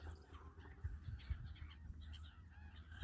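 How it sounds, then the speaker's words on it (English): Geese honk noisily during breeding season, faint scattered calls over a low rumbling outdoor background, with no one talking. "Breeding season for the noisiest birds on the planet."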